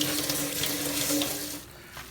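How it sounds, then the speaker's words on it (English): Running tap water pours over long grain white rice being rinsed in a kitchen sink, a close, steady splashing hiss that thins out near the end. "I'm washing the rice well so that all the starchiness gets out."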